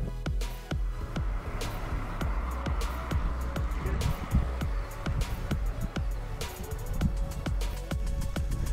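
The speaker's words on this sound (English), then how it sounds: "We're just going to let these cars go by" Cars pass on a West Yorkshire road near Scammonden Bridge, heard by a cyclist as a run of close engine and tyre swooshes, several vehicles going by one after another over steady road rumble.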